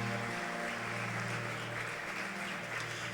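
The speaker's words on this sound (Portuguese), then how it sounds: "Pode aplaudir a Jesus então pela palavra" A church congregation claps steadily during a sermon, the applause dense and continuous at a moderate level over a faint sustained musical hum.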